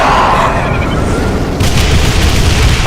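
Ground explosions from an Archvile variant's attack in a Doom mod game roll out as a loud continuous booming rumble, with a fresh burst of blasts partway through, dense and close.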